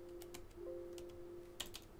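A few quiet keystrokes on a computer keyboard as a network command is typed, soft scattered clicks over a faint steady hum.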